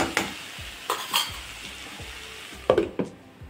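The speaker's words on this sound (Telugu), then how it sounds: "కలిపేసి మూత పెట్టేద్దాం." A spoon stirring tomato drumstick curry in a pan, giving several distinct scraping clinks against the metal in an irregular rhythm over a faint sizzle, close and fairly loud.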